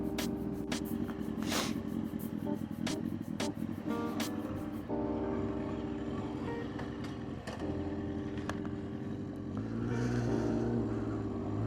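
Kawasaki ZX9R motorcycle with loud aftermarket exhaust pipes riding through city traffic, a steady engine drone with shifting pitch as revs change, heard close and continuous without talk.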